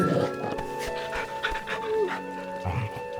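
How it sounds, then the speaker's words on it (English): Dog in the Final Fantasy XVI video game panting in quick rhythmic breaths while being petted, close and fairly loud over soft game music, with someone talking briefly. "He's a good dog."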